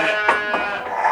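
Ewe sheep bleat while being handled and injected before the breeding season. Two or three short, close, nasal bleats come in quick succession over about a second.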